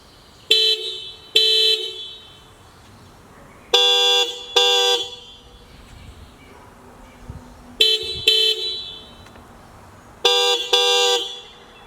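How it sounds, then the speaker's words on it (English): Two horns trade off, each giving a pair of short, loud honks, repeated four times with pauses between; one is a Subaru Crosstrek car horn, the other a loud bicycle horn. "This is a Subaru Crosstrek, and I want to compare it to the loud bicycle horn."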